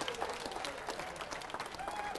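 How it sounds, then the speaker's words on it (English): An audience gives a burst of applause during a talk. The clapping is faint, distant and steady, with a little crowd murmur. "give a hand clap for media"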